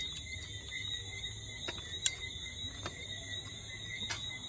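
Night chorus in Jamaica: steady high-pitched frog or insect calls drone continuously, with sharp isolated clicks and chirps popping out at irregular intervals over a faint low hum, no talking.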